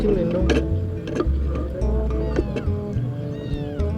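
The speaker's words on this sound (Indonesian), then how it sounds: "Ini nambah ada kucing nih." A hungry cat meows repeatedly in a home kitchen, several short loud calls close by, with people talking around it.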